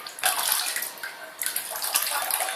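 Water pours steadily from the smiley-faced spout of a VTech fish bath toy, a close splashing trickle that surges and eases in a few bursts with no voices.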